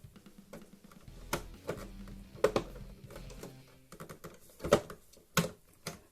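Hinge of a door on a Hasbro HasLab Ghostbusters Ecto-1 toy car clicking and catching as it is pulled open, producing several sharp, close plastic clicks and taps scattered irregularly, with quiet handling noise between them and no talking.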